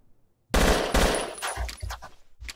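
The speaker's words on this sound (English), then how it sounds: "Now we'll try some long-range Kalashnikov firing." A Kalashnikov rifle in the video game Battlefield Yugoslavia fires at long range, starting with a loud burst of rapid shots and then trailing off into scattered single cracks and distant echoes.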